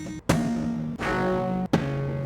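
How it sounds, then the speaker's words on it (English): Acoustic guitar samples heavily distorted by a wave shaper plugin ring out as three separate, gritty sustained notes, each starting with a sharp attack and cutting off abruptly before the next. "this Melda production plugin, which is like a wave shaper distortion type of thing."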